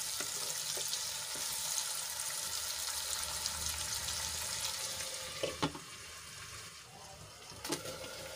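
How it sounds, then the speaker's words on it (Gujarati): Tomatoes and onions cooking in a covered pan on the stove, a steady broad hiss of simmering and frying that runs throughout, with a few brief clinks near the end and no talking. "ફરીથી ઢાંકીને આપણે ટમાટા સોફ્ટ થાય ત્યાં સુધી એને ચડવા દઈશું"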